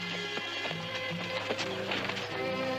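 A horse moves along a funeral procession with hoof clatter and rustling, set against a busy background of other sounds and music-like tones, with no clear speech.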